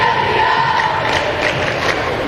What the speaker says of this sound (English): As you can hear the Highlanders cheering on their team.